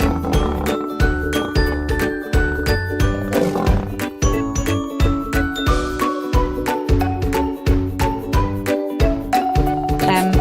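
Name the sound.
cartoon lion roaring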